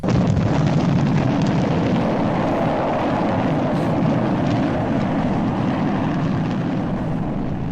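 Steady roar of a jet aircraft, loud and continuous throughout as an opening sound effect, with no voices over it.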